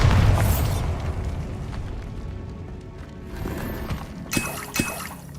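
Confringo and Bombarda spells go off in Hogwarts Legacy on PC as loud booming explosions with rumbling debris, followed by several sharper bursts and crackles.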